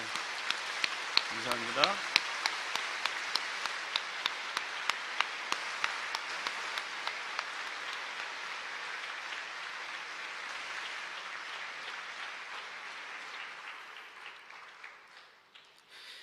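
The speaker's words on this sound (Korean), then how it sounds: "우리 인사하실 때 환영의 박수 한번 보내겠습니다" Congregation applause in a church welcoming a visiting guest during a Sunday service, a dense steady wash of clapping with a few sharper claps early on, fading out near the end, a brief spoken word heard over it.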